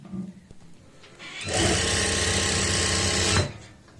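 A sewing machine stitches the lining of a kameez shirt, a steady mechanical whirring burst of about two seconds, close and loud, after a brief quiet start with small handling sounds.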